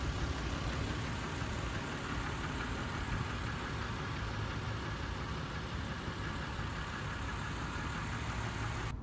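A 2004 Toyota Tacoma's 5VZ-FE V6 idling, a steady continuous engine rumble held close and loud with no change in pitch throughout.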